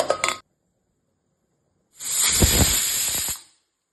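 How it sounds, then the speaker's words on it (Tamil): Pressure cooker whistle venting steam while cooking buttermilk curry, a short sharp hiss followed by a longer loud, shrill steam blast, with silence between them. "2 விசில் வந்துடுச்சு, ஆஃப் பண்ணிடலாம்."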